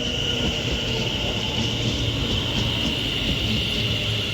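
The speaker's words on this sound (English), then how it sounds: "This is off with the 15:39 London North Western Railway service to Liverpool Lime Street from Birmingham New Street with a class 730." A London Northwestern Railway class 730 electric train departs Stafford station on the West Coast Main Line, a loud, close, steady rolling rumble with a high electric whine, continuing without pause and no voices.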